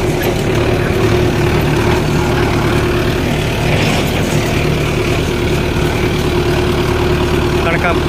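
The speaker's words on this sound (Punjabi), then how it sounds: "ਹੁਣ ਆਪਾਂ ਚੱਲੇ ਹਾਂ ਟਰੈਕਟਰ ਲੈ ਕੇ" A tractor pulling a small trolley through ripe wheat fields runs with a steady low diesel rumble, loud and continuous throughout, with no break in the engine drone.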